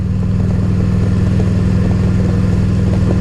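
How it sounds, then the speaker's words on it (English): Harley-Davidson motorcycle engine running loud and close, a steady deep thumping throb with strong low rumble throughout, holding at a raised rev level without a clear rise or drop. "These Harley engines, I think this one's here is designed to be revved a little higher."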